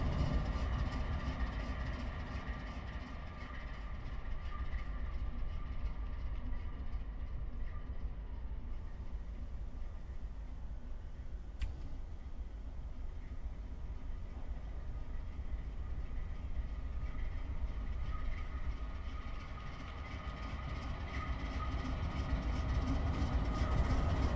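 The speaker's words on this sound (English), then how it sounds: "as we get further away from the engine, you can hear how the exhaust note changes" Exhaust note of a GE AC4400 diesel locomotive in the Train Simulator 2018 video game, a steady low diesel rumble heard from a distance for the whole stretch, continuous and fairly loud with no talking.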